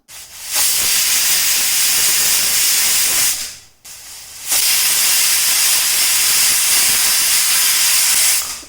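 A pressure cooker on a gas stove, cooking pumpkin and chickpeas for erisseri, lets off two loud, close whistles of hissing steam, each lasting about three to four seconds with a short break between them.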